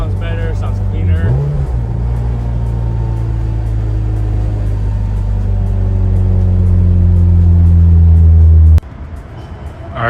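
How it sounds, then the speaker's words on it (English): A Toyota MR2 Spyder with its roof off idles with a deep steady exhaust drone, rising slightly in pitch and loudness before cutting off sharply near the end; a voice speaks briefly early on. "Exhaust sounds better, sounds cleaner."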